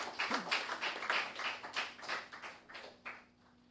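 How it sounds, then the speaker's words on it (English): Audience applause after a winner is announced at a national law day debate, a short burst of rhythmic clapping that thins out and fades toward the end, heard from a middling distance. "Let's give Yap a big round of applause"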